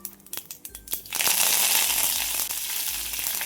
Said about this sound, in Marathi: यानंतर भरपूर सारा कढीपत्ता घालूया